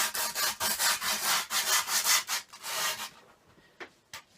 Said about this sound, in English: now you're going to take the extra grip that you cut off and just scrape it around the edges